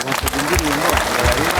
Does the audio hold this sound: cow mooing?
no